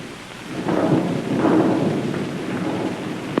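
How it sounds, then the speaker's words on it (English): Thunder rumbles through a storm in an old mystery film, two deep swelling rolls over a constant hiss of rain, with no voices. "Ah, thunder and lightning."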